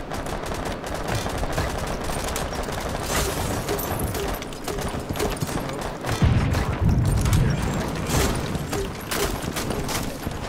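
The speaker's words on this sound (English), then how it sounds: "start shooting randomly" Rapid gunfire in Rainbow Six Siege, with dense bursts of automatic shots running almost continuously and growing heavier toward the end, loud and close with no talk over it.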